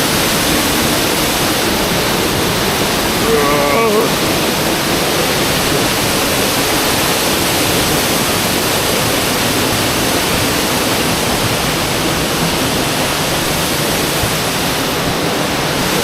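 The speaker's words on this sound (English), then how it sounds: "It's like water flowing down the little rock." The 75-foot Dry Falls in Highlands, North Carolina, water pouring down rock into a small cavern, heard as a loud, steady, broadband roar that holds unbroken from start to finish with no speech over it.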